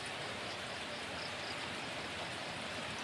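Heavy rain pours down in Agusan del Sur in the Philippines, a dense, unbroken roar of drops hitting surfaces, even in loudness throughout and without other sounds.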